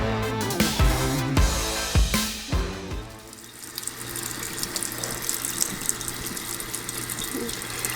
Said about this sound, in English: let's give them a rinse and see how they look